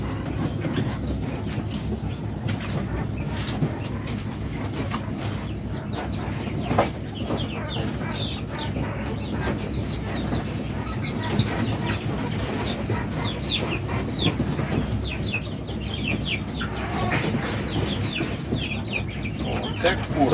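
Adult Texas broiler quails clucking and chirping in a steady busy chorus, with faint talking and mechanical background noise throughout.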